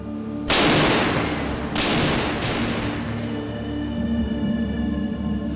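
The main gun of an Armata tank fires during night shooting: three heavy booming shots in quick succession, loud and close, each leaving a long rumbling echo that fades into a steady low engine drone, with no talk.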